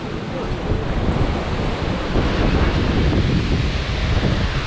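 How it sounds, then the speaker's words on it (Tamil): Strong wind roars continuously into the microphone at Top Station, Vattavada, a dense, loud rushing that barely lets up. "காற்று தான் மக்களே ஃபுல்லாக அடிக்குது"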